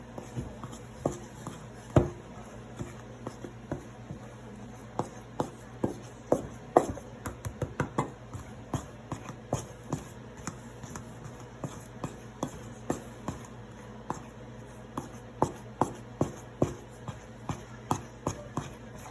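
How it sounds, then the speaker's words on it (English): A pastry fork cuts flour into shortening for buttermilk biscuits, giving soft repeated taps and scrapes against the bowl in an uneven rhythm, quiet and close. "you just take your pastry fork and you just cut that flour into that shortening"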